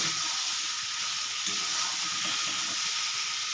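Fried eggs stirred into sizzling curry masala give a steady, dense hiss from start to finish. The frying stays fairly loud, with no voices.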